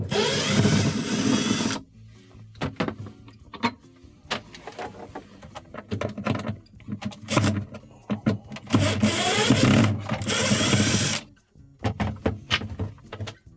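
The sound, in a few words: power drill removing panel screws on refrigerator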